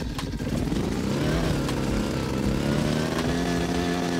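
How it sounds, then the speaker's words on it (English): A snowmobile engine drones and revs while driving through snow in the Rust video game, a loud continuous buzzing motor with rising pitch that holds steady close up, no talking. "we've got a snowmobile, so I want to go ahead and try to raid some bases from the snowmobile"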